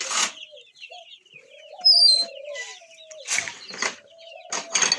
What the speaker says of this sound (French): Ici, du coup, on a toujours nos tourterelles.